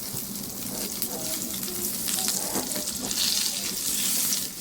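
Brinjal pieces sizzle loudly in mustard oil while being flipped over, the steady close crackle broken by small scrapes and clatter from the turning.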